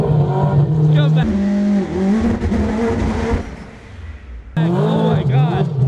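A four-rotor Mazda RX-7 with AWD launching on a two-step limiter, screaming loudly with harsh, buzzy revving that bogs briefly and then roars again, close by and overpowering voices.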